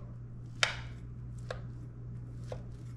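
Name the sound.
cutting into a cornbread casserole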